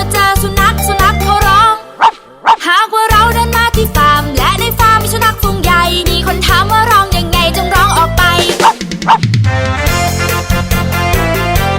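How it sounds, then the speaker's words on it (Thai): A dog's barks sound within a loud, continuous children's farm-animal song, short yips and bow-wows mixed among the melody and backing music. "หากว่าเรามาเจอสุนัขสุนัขเขาร้อง"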